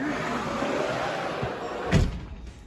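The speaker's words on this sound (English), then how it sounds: "And I have to close this door" Door on a farm building near the sheep pens closes with one fairly loud thump near the end, after a stretch of outdoor background noise.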